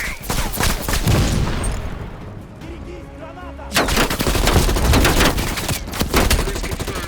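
Machine gun fire in Call of Duty: Black Ops Cold War, with loud sustained rattling bursts, a brief lull in the middle, then heavy continuous firing with booming impacts.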